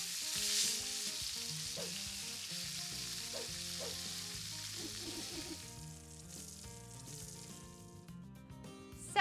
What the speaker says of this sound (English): So I am gonna cook this chicken for probably 3 or 4 minutes on the first side